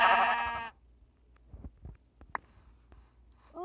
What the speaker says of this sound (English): Hey, little sheep.